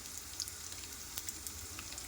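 Curry leaves and turmeric fry in hot tempering oil for sambar, a steady close sizzle with fine crackles and pops throughout.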